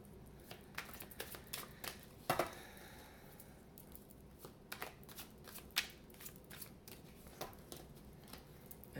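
Tarot cards shuffled by hand in a repeated riffle-and-slide pattern, producing soft papery flutters with sharper snaps, steady and close throughout with no speech.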